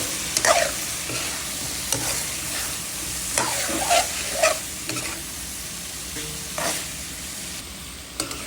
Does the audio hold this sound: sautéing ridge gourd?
yes